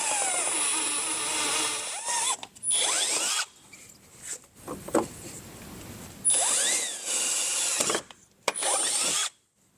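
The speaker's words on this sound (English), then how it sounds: "So I'm going to jump over on the other side and we'll match drill those." A power drill bores holes through a fender flap on a 2024+ Polaris RZR XP 1000 UTV, in several loud bursts of whining drilling separated by short pauses and quieter handling noise.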